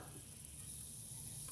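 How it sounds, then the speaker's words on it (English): Butter sizzles steadily in a very hot pan, a continuous bright frying hiss that stays close and even throughout, with no talking over it. "can you hear that sizzle?"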